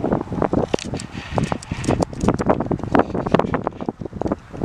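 Wind buffets a microphone outdoors in strong gusts, producing a continuous rumbling, rustling roar that surges and fades irregularly, loud and close with no clear talk.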